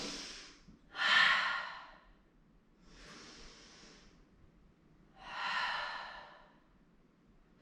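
A slow, audible exhale during a vinyasa yoga flow, followed by a few more soft breaths through nose and mouth, close and fairly quiet with pauses between.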